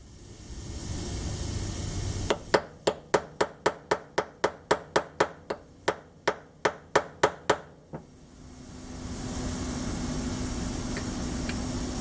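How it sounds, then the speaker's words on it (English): A hammer strikes a punch about eighteen times in a steady rhythm, driving a pin into the lever assembly of a MOA Precision LightningLoad lifter, loud and close over a constant background hiss. "Use a hammer and punch"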